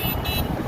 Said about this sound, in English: you got a lot of people honking